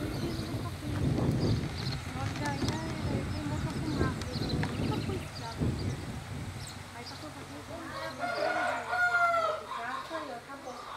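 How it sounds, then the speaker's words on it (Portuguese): A farmyard chicken clucks and pecks at corn still on the cob, with soft clucks and scattered pecking taps close by while people talk over it. "a galinha comendo milho diretamente na espiga"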